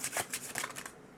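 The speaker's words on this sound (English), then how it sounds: "Now I am going to shuffle and draw for the collective" Tarot cards being shuffled by hand: a quick series of crisp riffling and shuffling bursts, close and fairly quiet, fading out near the end with no talking.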